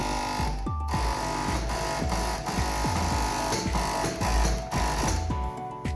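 Four-thread overlock serger stitching fabric, a loud continuous mechanical whir with a fast, steady rhythmic knocking of the needles, close up and without speech.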